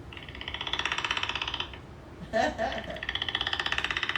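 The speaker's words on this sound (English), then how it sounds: "Oh, this one purrs when they get petted. That's the purring, yep." Rhythmic mechanical purring from a toy cat pulses steadily, broken briefly by a short squeaky vocal burst, then the purring resumes at the same even pace.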